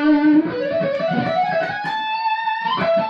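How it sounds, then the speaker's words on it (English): Electric guitar arpeggio melody from a song, played an octave higher after a fast run, a bright distorted line of quick ringing notes climbing and sustaining, loud and alone. "he plays a fast run, and then he does that arpeggio melody an octave higher"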